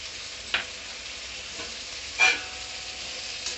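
Eggplant with salt and turmeric being mixed in oil, a quiet low sizzle broken by two brief scraping stirs of a spoon in the pan, no one speaking.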